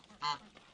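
A single loud, nasal honk from a disabled pet goose named Ippeuni, a brief harmonic call standing alone against quiet surroundings.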